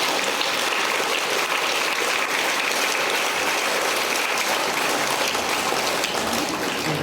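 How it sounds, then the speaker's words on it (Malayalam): A school assembly gathered for a feast day gives a sister a long round of applause, many hands clapping in a thick, continuous patter that holds steady throughout with no talking over it. "ഒരു സെൻട്രൽ അഫയേഴ്സ് ക്ലാപ്പ് കൊടുത്ത്."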